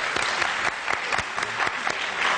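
Audience applause at a Yemeni stage play: a steady crowd of hands clapping throughout, with a few sharper individual claps standing out.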